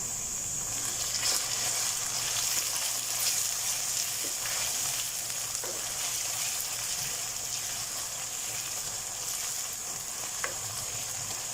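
Finely chopped tomatoes fry in a pan for egg masala, a steady close sizzle with soft crackles and occasional stirring clicks that keeps going evenly throughout, with no voices.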